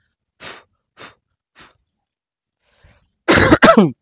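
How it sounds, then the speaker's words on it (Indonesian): Three short, soft breathy sounds are followed by a loud burst of two or three harsh coughs close by, from a person with a cough and cold. "Ini agak sedikit batuk pilek ya"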